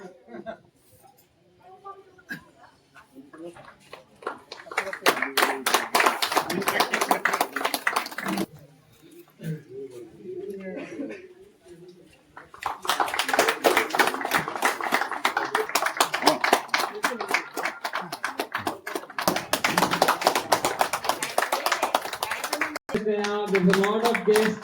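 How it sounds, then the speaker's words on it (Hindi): Crowd applause at the opening ceremony of a T20 cricket tournament, bursts of loud, dense clapping that stop and start several times, with a voice speaking over a PA system between and under them. "तालियों की आवाज ना रुके तो बेहतर लगेगा"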